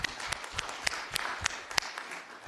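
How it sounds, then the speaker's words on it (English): Scattered applause from a fairly small audience at a city council meeting, individual claps standing out sharply in an uneven pattern, faint and slightly distant. "That's a good thing to clap for."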